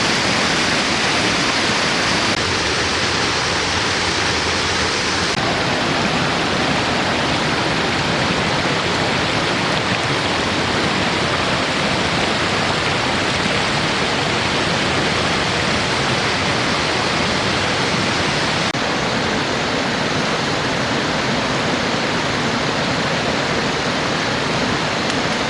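A waterfall cascade near Grafton, Maine, a loud, steady, close rush of falling water that holds without a break throughout.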